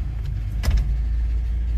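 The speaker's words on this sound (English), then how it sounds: "It's got some engine noises that weren't there before." An old car's engine runs at idle with a steady low rumble and a brief mechanical rattle partway through, close and continuous.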